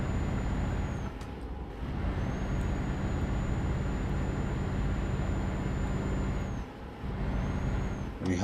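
A truck in Euro Truck Simulator 2 slowing down, a steady heavy engine drone with a high whine, broken twice by brief hissing air-brake releases, close and continuous.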